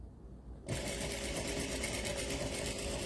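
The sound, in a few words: sewing machine chain sewing quilt block pieces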